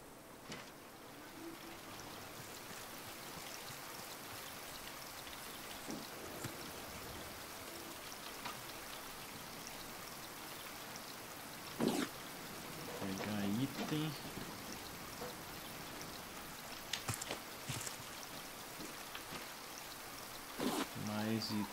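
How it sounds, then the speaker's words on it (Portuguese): Steady rain pours at night in the survival game Raft, a constant hiss of falling water throughout with a few brief louder splashes and thuds. "tá de noite e tá chovendo"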